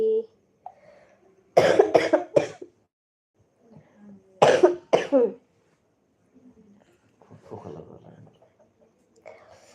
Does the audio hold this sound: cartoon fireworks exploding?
no